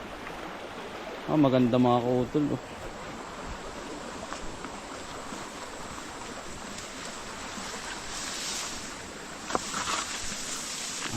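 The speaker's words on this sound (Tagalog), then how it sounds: "Walang katapusan tubig." Steady broadband rushing of a flowing stream throughout, with someone speaking briefly in Tagalog near the start over the continuous water noise.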